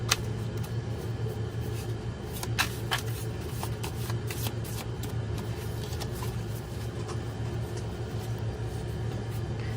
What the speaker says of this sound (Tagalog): Pero kailangan pa rin po nating balasahin.